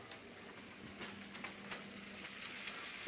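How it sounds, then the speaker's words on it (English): Steady, loud sizzling of ribeye steak frying in a hot pan, a constant crackling hiss with occasional pops, close up and without talk. "Can you hear that sizzle?"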